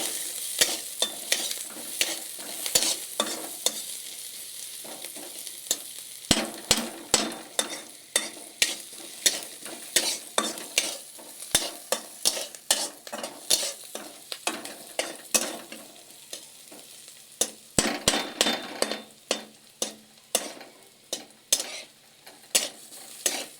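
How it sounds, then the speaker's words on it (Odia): Chopped onions sizzle in hot oil in a pan while a spoon stirs them, giving steady frying hiss broken by many sharp, irregular scraping clicks against the pan, close and fairly loud. "ପିଆଜ ଏଇ ସନ୍ତୁଳି ଦେଲି"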